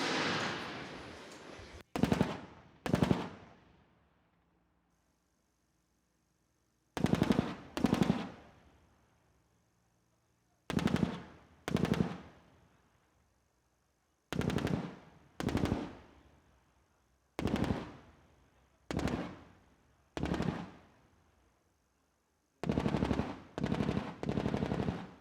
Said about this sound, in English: A dense fire of the 30mm gun on the move.